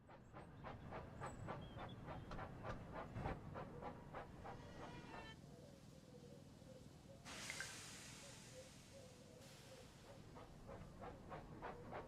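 A steam engine from the game Thomas & Friends: Wonders of Sodor runs with regular chuffing puffs that slow and fade, then a loud burst of hissing steam, with light talk underneath.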